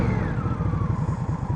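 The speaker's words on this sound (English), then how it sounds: "Oh, I love that engine." A 2015 Indian Scout motorcycle engine thrums with an even, rapid low pulse during a test ride, close and steady, with a thin whine sliding slowly downward above it.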